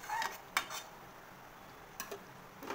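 A metal lid goes onto a cooking pot of potol chingri, pointed gourd and prawn curry, with a couple of quiet clinks and a soft clatter over faint background hiss.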